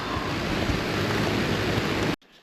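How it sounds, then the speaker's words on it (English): Steady, dense rain pours close by as a loud broadband hiss, then cuts off abruptly to near quiet. "Oh, it's raining."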